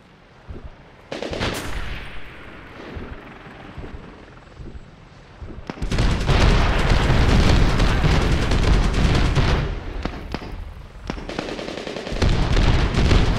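Heavy gunfire and explosions from a Medal of Honor Warfighter sniper mission in Somalia: scattered shots at first, then a loud sustained barrage of machine-gun bursts and booms, with a brief lull before the firing resumes.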